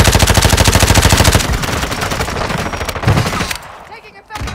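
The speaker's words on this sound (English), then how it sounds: "Taking effective fire!" Loud, rapid automatic gunfire in a battle-royale video game match on the Vondel map, with dense continuous bursts at first, then scattered shots and a few sharp reports as it thins out.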